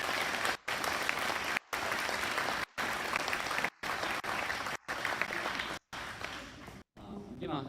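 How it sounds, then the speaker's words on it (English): An audience applauds preschool performers at a PreK moving-up ceremony with steady, moderately loud clapping that continues for several seconds, broken by a few brief regular dropouts. "one more round of applause for these wonderful, talented stars"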